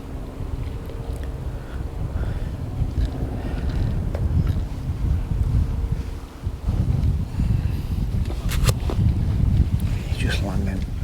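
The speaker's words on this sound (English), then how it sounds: "Got a bit of a breeze on" Wind buffets and rumbles across the microphone in uneven gusts at a fishing lake, with a voice speaking faintly underneath.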